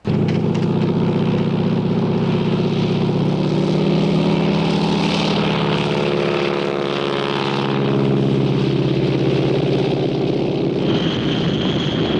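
A loud, steady propeller engine drones throughout, its pitch shifting slightly as it runs, with a brief change in tone near the end.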